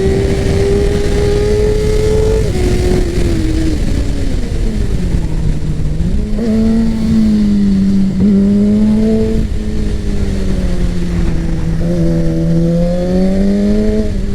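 A Suzuki GSX-R motorcycle is ridden at an easy pace, its loud close engine drone shifting pitch steadily as it speeds up and eases off over continuous wind and road noise.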